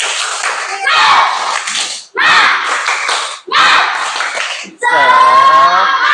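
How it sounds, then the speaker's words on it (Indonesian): Schoolchildren in a classroom doing a rhythmic spirit clap, loud, close group clapping in four distinct bursts with chanted voices over it. "Tepuk semangat."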